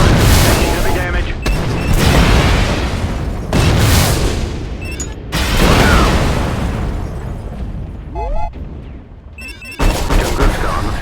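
Missile and artillery explosions in the video game Shadow Strike boom heavily one after another, loud rumbling blasts with brief gaps, mixed with a radio-style voice calling out over the combat.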